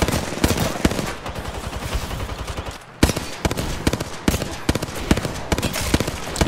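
Rapid gunfire from a close-range Apex Legends fight as Pathfinder shoots at an enemy climbing a roof, with loud sharp shots in quick bursts, a brief pause, then more rounds, all up close with no talk.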